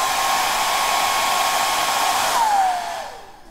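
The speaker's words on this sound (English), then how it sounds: "I could blow harder than this blow dryer can" A cheap handheld hair dryer blows with a steady, close, airy whine for about two and a half seconds, then the motor pitch slides down as it winds off.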